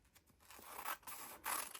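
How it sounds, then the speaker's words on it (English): Scissors cut paper for a junk journal page, a few crisp snipping strokes close by with short slicing swishes, fairly quiet and alone. "I'm going to cut it about right there"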